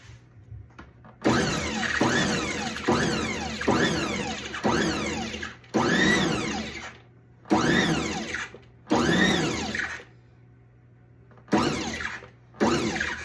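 A NutriMill mixer fitted with Pro Line cookie paddles pulses through cookie dough in about eight or nine short bursts of motor whir, each rising and falling, separated by brief silences.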